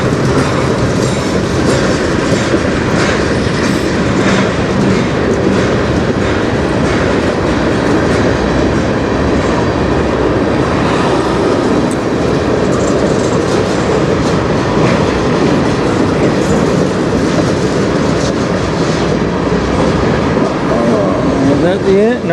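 A CN freight train, mostly empty cars, rolls steadily past close by with continuous rumbling and clickety-clack wheel noise the whole time, while someone talks over it now and then.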